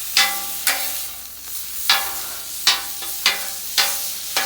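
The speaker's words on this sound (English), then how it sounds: "Stir it up a little bit." Food with soy sauce stirred on a Blackstone griddle, a steady sizzle punctuated by about six sharp metallic scrapes of a spatula at an uneven rhythm, close and loud with no talk.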